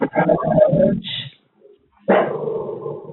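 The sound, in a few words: dogs barking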